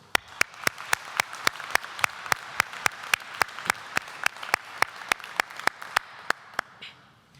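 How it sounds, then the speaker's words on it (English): Crowd applause at a Greenwich graduation ceremony, with sharp, evenly spaced claps standing out in a steady rhythm over a wash of softer clapping, fading out at the end. "let's have a big round of applause for you all"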